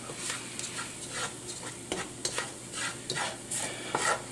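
Four tablespoons of chili powder browning in fat with onions for homemade enchilada sauce, giving a soft continuous sizzle broken by scraping stir strokes and light utensil taps, close and fairly quiet.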